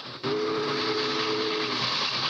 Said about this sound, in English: the same pressure made the engine's whistle blow